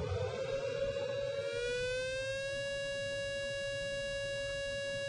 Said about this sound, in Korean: 대피할 준비를 하라라는 평탄음 사이렌 들어보십시오